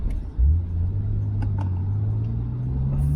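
A Nissan Skyline R34 GTR V-Spec cruises at steady speed, its engine a low, even drone with a slight rise in pitch, heard from inside the car under faint road rumble and occasional small clicks.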